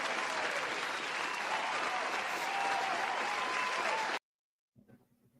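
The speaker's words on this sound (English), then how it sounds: "Let's give Bill Haney Theater a round of applause." A theater audience applauds at the Bill Haney Theater during a boxing talk show, steady dense clapping for about four seconds that cuts off abruptly, followed by a brief faint voice.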